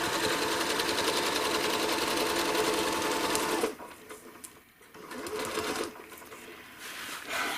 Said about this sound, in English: when I stitch along here, along the outside, the C curve